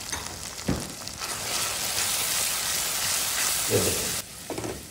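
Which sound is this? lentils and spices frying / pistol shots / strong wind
lentils and spices frying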